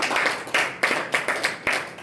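Audience applause at a communication and career development talk in Kigali, a dense burst of clapping from a crowd with uneven rhythmic surges, close and fairly loud.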